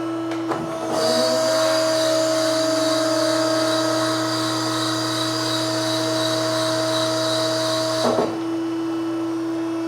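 Hydraulic mandrel tube bender making the final bend on a custom Corvette frame rail: a steady, loud mechanical whine and hum that starts abruptly, holds evenly for about seven seconds, then cuts off.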